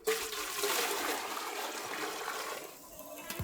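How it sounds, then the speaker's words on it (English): In a van, water from a bucket shower pours and trickles down, a soft, continuous splashing close by that eases toward the end. "It's a bucket shower."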